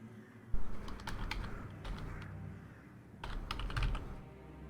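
Typing on a computer keyboard, with quick close clacking keystrokes in bursts over low room hum and a brief thump at the start.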